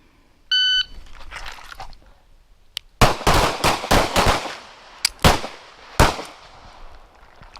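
Shot timer beeper sounds a short electronic tone, then a rapid string of about ten loud handgun shots fires at a shooting range during a drill, each crack sharp and close with brief pauses between groups.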